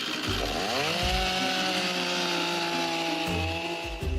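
A chainsaw revs up loud and close as the trigger is squeezed, its engine pitch climbing steadily and holding a sustained high whine before easing, with a couple of brief throttle dips along the way.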